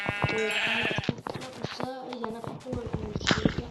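Sheep in a survival video game bleat in several wavering calls, one after another, while players talk over them.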